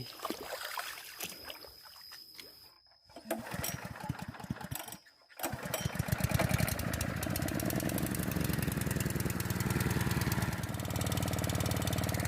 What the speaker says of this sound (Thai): ตอนนี้เราก็ ติดตั้งจักรดูดน้ำเรียบร้อยแล้ว สตาร์ทเครื่องกันเลย